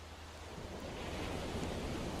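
Ocean surf on a beach at night in the Viva Fantasy animation, a steady broadband wash of waves slowly swelling in loudness, with no voices.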